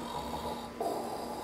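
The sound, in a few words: people snoring while napping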